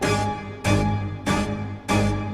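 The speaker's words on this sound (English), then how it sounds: "The first thing I worked on was this ugly chords stab part" Four short, harsh synth chord stabs in a Doom Eternal style hit in a steady, evenly spaced rhythm, loud and alone with no voices.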